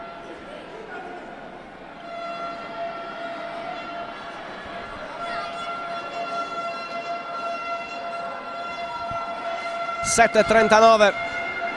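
A loud electronic final siren sounds near the end of a Serie A Gold handball match between Sassari and Conversano, a short harsh blast rising over steady arena noise while a commentator talks throughout.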